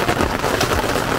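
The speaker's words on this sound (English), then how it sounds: "It's raining again." Heavy rain pours steadily at a family campsite in Busselton, a dense, continuous hiss of drops striking surfaces close by, with no voices.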